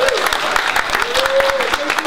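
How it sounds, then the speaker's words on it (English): An audience claps steadily throughout, a dense spread of hand claps that fills the space, with a tone sweeping across at times. "Give them a round of applause."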